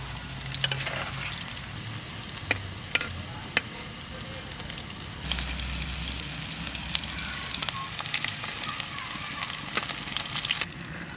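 Potatoes fry slowly in hot oil in a home village kitchen, giving a steady, close sizzle broken by occasional stirring scrapes, with the bubbling growing louder midway.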